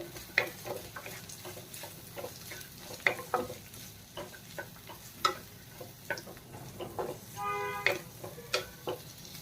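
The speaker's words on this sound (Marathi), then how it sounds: "इथे आपल्याला कॉर्न आणि शिमला मिरची याच्यामध्ये चांगली फ्राय करायची आहे" Corn and chopped capsicum fry with leftover cooked rice in a pan. A soft sizzle runs under frequent clicks and scrapes as a spatula stirs, and a brief tonal beep comes near the end.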